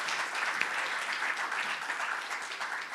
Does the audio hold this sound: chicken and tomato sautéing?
no